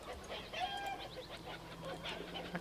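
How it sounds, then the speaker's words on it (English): Bird-like clucking calls from chickens in the video game Baldur's Gate, a scattered run of short faint squawks over a constant low hum and murky background ambience. "I can hear chickens."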